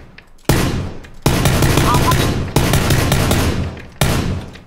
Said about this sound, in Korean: 그리고 총소리가 180 방향에서 한 번 더 들렸거든요.